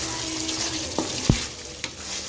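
Chicken karahi fries in a pan with a soft, continuous sizzle, while a spoon stirs and scrapes the bottom in a few quiet knocks.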